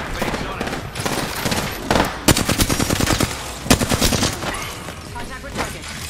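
Rapid bursts of automatic gunfire ring out in a shooter video game, several loud volleys clustered near the middle with sharp single shots and game sounds around them, while players talk over the action.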